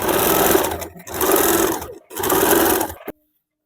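Sewing machine stitching piping onto a blouse, three loud, close bursts of rapid mechanical whirring separated by short pauses before stopping, no talk.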